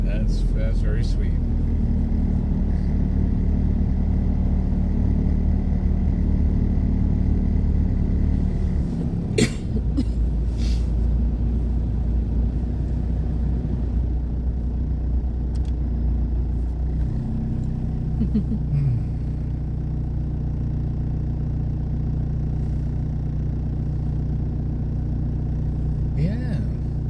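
A car drives slowly through heavy, cold-weather traffic in Gatlinburg and Pigeon Forge, its low engine and road rumble steady inside the cabin under ongoing conversation and an occasional cough.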